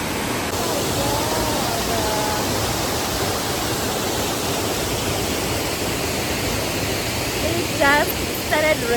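Steady broadband rush of a waterfall, loud and continuous throughout, with light rain starting and a few brief vocal sounds near the end.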